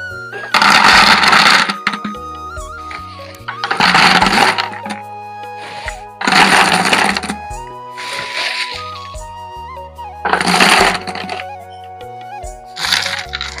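Dried lentil dumplings (bori) poured into an airtight container, several loud bursts of hard rattling and clattering separated by quieter pauses, close up with no talk.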